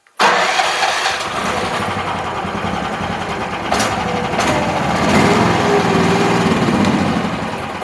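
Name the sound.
small Chinese mini excavator engine cranking, failing to start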